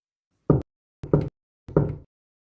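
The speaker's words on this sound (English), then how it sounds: "3 slow, measured knocks." Three slow, measured knocks on a side door, each a short dull thud spaced evenly apart against total silence, close and distinct.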